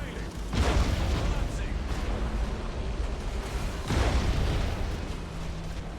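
Ships explode in the space-battle video game Warhammer 40,000: Battlefleet Gothic 2, with two broad, rumbling booms some three seconds apart over a constant low roar.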